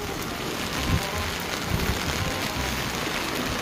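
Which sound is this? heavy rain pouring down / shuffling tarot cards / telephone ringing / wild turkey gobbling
heavy rain pouring down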